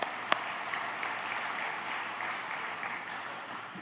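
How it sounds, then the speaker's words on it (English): An audience applauds at a high school hall of fame induction ceremony, a steady, even wash of clapping from a hall crowd that holds at one level throughout. "and I want to give you a round of applause."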